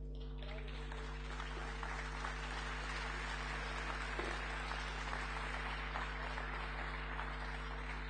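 An audience at an agricultural anniversary celebration applauds as a father and daughter are honored, a soft, distant wash of clapping sitting under a steady electrical hum from the venue's sound system.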